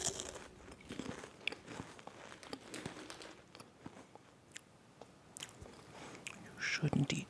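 Chips are crunched in sharp, irregular bursts, close and fairly quiet, with soft mouth noises between bites.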